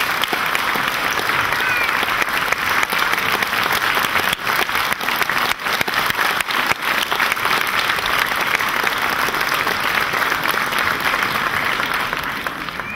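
A hall audience at a children's fashion theatre show claps steadily and loudly, a thick unbroken wash of many hands that holds for about thirteen seconds and eases slightly near the end.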